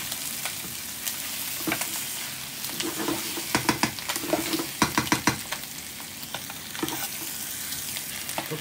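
Onions sizzle steadily in a frying pan while a utensil stirs them, giving repeated scraping clicks and taps over the hiss.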